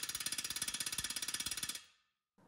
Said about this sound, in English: we're also going to use the air hammer to help shock the stud, further breaking up any corrosion